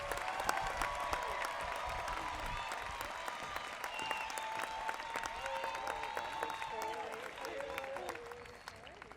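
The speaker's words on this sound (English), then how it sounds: "please, a round of applause for these top scholars" A graduation crowd at Shawnee Mission West in 2015 applauds top scholars, sustained dense clapping with scattered whoops and voices, fading slightly at the end.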